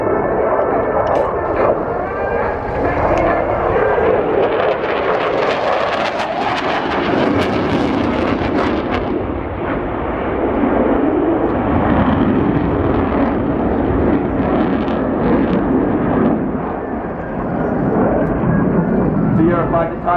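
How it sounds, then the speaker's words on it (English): A Eurofighter Typhoon makes a high-speed pass at the Royal International Air Tattoo air show, a loud jet roar building to a tearing peak midway before easing into a sustained rumble as it pulls away. "accelerating 600 knots from the right, Adam's going to present another high-speed pass into a 9G massive barrel roll"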